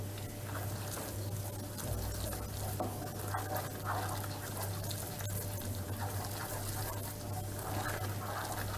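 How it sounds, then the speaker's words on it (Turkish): Flour roasting in a pan for Turkish milk halva is stirred continuously with a wooden spoon, giving a steady soft scraping and faint sizzling texture over a constant low hum, with no talking. "Tahta kaşıkla böyle karıştıra karıştıra unumuzu kavuralım."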